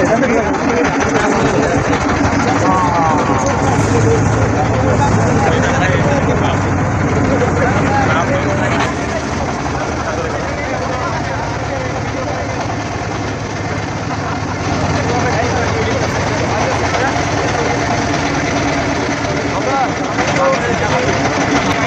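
Tourist boat engine in the Sundarbans chugging as the boat pulls away, a steady low rumble beneath a busy babble of passengers talking nearby.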